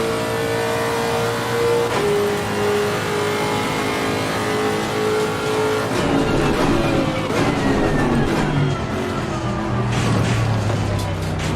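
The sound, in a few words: race car engine from video game Assetto Corsa Competizione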